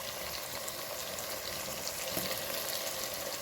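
Tomato and onion cook in a pan for a Kannada-style fish curry, giving a steady, close sizzle with faint bubbling that runs the whole time without a break and with no voice over it.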